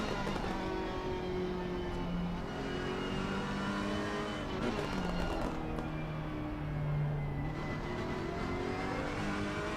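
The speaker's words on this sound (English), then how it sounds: "Ah, you went on the accelerator." A race car engine in a sim racing game revs and accelerates steadily throughout, with rising and falling harmonic whine and loud, continuous drone, no talk over it.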